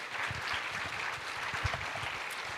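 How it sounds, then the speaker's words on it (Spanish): A church congregation gives a round of applause at a service marking a church's seventh anniversary: continuous many-handed clapping, fairly soft and somewhat distant, steady for the whole span. "¿Le puedes dar un aplauso al Señor?"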